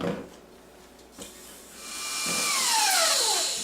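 An electric mixer whips frosting with a rising, whining motor hum that climbs in pitch and grows louder, beginning with a few clicks and scrapes.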